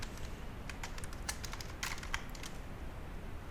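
Code is typed on a computer keyboard for a PHP login and registration form in a quick cluster of key clicks. A low background hiss runs underneath, and the tapping fades toward the end with no talk.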